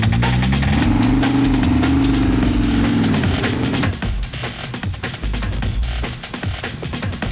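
A Ford GT Carbon Edition and a 1,400hp AWD Mustang launch from a 40 mph roll, engines roaring loudly and climbing in pitch, then cutting to a rougher, fading rush as the cars pull away.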